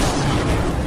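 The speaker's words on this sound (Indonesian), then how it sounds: "Namun tiba-tiba sebuah bom meledak" A bomb detonates in a dramatic film scene, a dense, continuous roar of explosive noise filling the whole moment with no speech over it.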